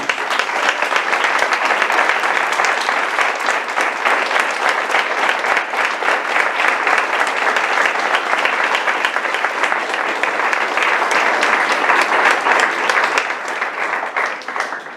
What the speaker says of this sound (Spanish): pedir para ellos un fuerte aplauso